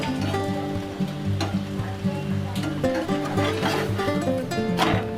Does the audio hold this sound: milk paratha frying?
yes